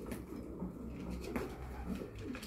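Racing pigeons in a loft coo softly in low, murmuring calls, faint and somewhat distant against a steady background rumble.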